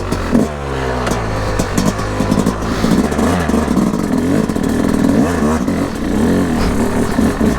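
A 2024 Yamaha YZ250X dirt bike engine loud and close, idling low with a burbling rhythm and lifting into short revs, its pitch rising and falling over a steady rumble.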